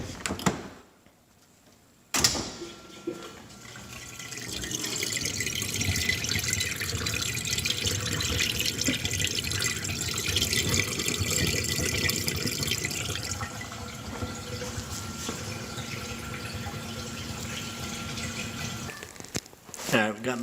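Water drains steadily from a dishwasher with leftover soap suds, a continuous trickling, gurgling wash that starts after a brief pause and runs for most of the span before tapering off.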